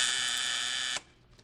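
A door buzzer in an old-time radio detective drama gives one steady, loud electric buzz for about a second and then cuts off, leaving quiet room tone.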